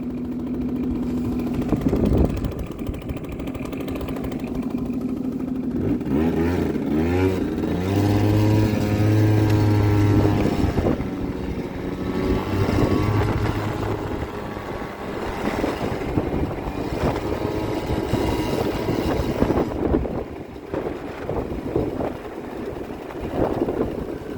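A Hyosung Sense scooter in bad shape runs loud and close during a ride, its engine note rising and falling as the throttle changes, with wind buffeting the microphone and no talking.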